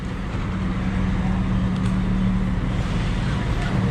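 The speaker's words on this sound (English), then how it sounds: "There's the Latigua, the bus we took to go to Antigua." Bus engine rumbling steadily in town traffic, a low diesel drone close by with general road noise and faint voices in the background.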